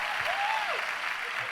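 Audience applause for African American women entrepreneurs at a faith-based talk event, a steady dense wash of clapping with a faint voice riding briefly over it.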